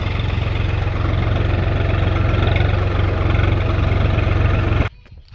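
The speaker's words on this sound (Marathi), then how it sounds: "तर गाईज इथं आणला आपलं ट्रॅक्टर उभा केला" A tractor engine idles close by in a field, a loud steady low rumble and throb that cuts off abruptly near the end, leaving only quiet background.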